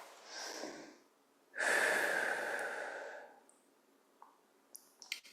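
Two slow, close breaths during a guided movement and stretching exercise, a soft inhale followed by a longer, louder airy exhale, then quiet with faint small clicks.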